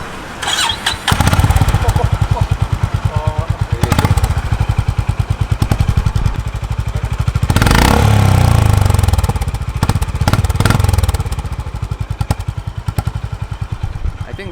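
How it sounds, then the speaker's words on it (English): Honda H'ness 350 classic-style motorcycle running close by, its steady pulsing thump rising and falling through several loud revs, with a stronger surge near the middle; voices murmur faintly underneath. "I think this is one of the best exhaust notes on a 350, on a classic, right?"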